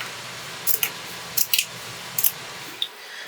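Scissors snip through burlap being trimmed for a fall craft, a few crisp separate cuts in short pairs, close and clear against a quiet room.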